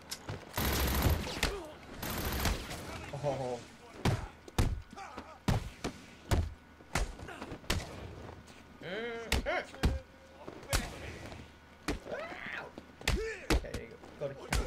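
Enemy gunfire in Batman: Arkham City, a string of sharp shots and impacts scattered across the clip amid game effects, with someone talking excitedly over much of it.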